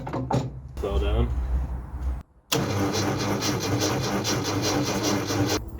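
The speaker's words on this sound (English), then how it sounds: "It is turning over, it's making a horrible noise." The engine of a classic Mini is cranked over with a rough, labouring noise. The loud, continuous churning runs after a brief cut-out, with a voice heard near the start.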